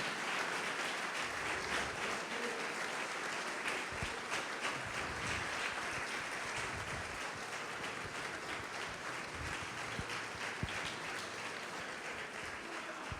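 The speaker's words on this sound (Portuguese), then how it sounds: "Pode aplaudir o nome do Senhor Jesus e glorificar." A church congregation applauding at a conference, a steady even wash of clapping that holds at moderate level throughout, with no clear voices above it.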